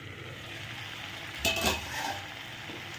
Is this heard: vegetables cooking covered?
yes